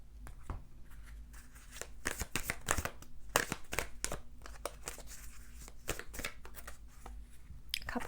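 Tarot cards being shuffled and handled up close, a quick run of crisp riffling snaps and soft slides, quiet and without talk.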